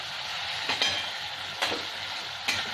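Onion paste, ginger paste and chopped tomato sizzle steadily in a frying pan with whole cumin, with three brief scraping stirs spaced across the close, even frying hiss.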